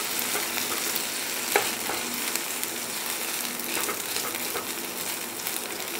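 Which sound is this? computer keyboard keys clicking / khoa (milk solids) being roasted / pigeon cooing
khoa (milk solids) being roasted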